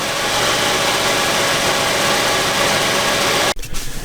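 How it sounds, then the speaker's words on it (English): An Oldsmobile 98 with a 3800 engine idles steadily at close range, a continuous even drone that cuts off abruptly near the end. "look under the car with the engine running to see if it's puking oil anywhere."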